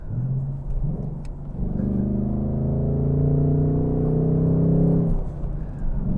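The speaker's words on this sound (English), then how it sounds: "It's also got the performance exhaust, and it just sounds so good." A 2024 Ford Mustang GT with a performance exhaust revs up with a deep, throaty exhaust rumble, rising and holding for several seconds before dropping back to a steady idle.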